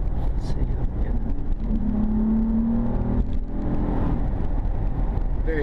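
A 2013 Honda Ridgeline pickup accelerates from inside the cab, a steady engine hum and road whir that rises in pitch as it gathers speed, continuous and fairly loud with no talk.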